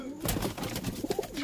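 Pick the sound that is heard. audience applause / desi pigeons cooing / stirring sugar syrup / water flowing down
desi pigeons cooing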